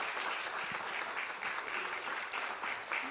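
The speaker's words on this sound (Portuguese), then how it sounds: "Dê um aplauso a Jesus e agradeça a Deus." A steady wash of church audience clapping continues throughout, fairly faint and even, with no voices rising above it.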